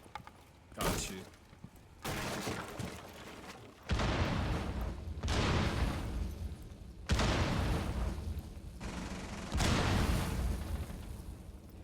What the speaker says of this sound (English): It's a lot of explosions.